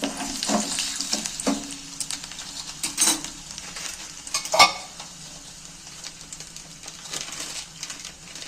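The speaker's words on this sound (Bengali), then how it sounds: "রসুন কুচিগুলো তেলের মধ্যে তুলে দিচ্ছি" Chopped garlic and dried chillies fry in mustard oil, giving a moderate, crackling sizzle with intermittent metallic clinks and stirring scrapes, a few sharper pops standing out, and no speech.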